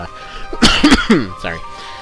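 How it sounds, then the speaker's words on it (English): A man coughs and clears his throat in a short cluster of three or four harsh bursts, close to the mic, followed by a brief throaty catch, with no talk between. "still got a little bit of a cough"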